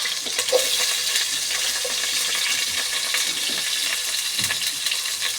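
Chopped onions sizzle steadily in hot oil in a pan, a continuous bright hiss with a few faint clatters, no voices.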